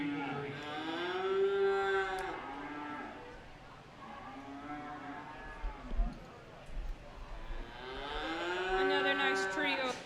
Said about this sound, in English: Feeder heifers out here.